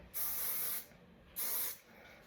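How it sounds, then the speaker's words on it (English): Two short bursts of hairspray hiss close by as it is sprayed onto a fringe, each lasting about half a second, separated by a brief pause. "just spray this fringe into sit,"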